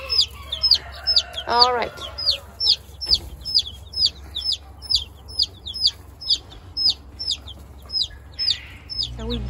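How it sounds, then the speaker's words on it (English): Chickens in an expanded farm coop give a steady run of rhythmic clucks close by, with a louder squawking call near the start and a brief spoken remark. "So we just expanded the chicken coop. Keeps on expanding with more chickens."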